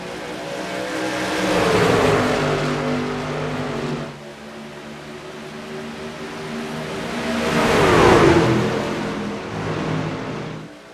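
Race truck engines roar and accelerate together on an overtime restart at Atlanta in an iRacing All-Star event, swelling loud twice as the pack surges past, with no voices.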